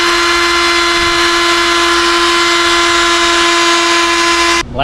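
A power drill fitted with a recess tool runs at a steady, loud whine while recessing screw holes in a handmade guitar pickguard, the motor tone holding constant before cutting off abruptly at the end.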